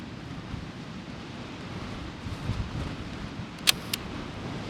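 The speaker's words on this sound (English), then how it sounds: "It's very, very windy, so I'm down low." Steady wind buffets the microphone with a low rumbling roar by rocks with crashing waves, joined by a couple of sharp film camera clicks near the end.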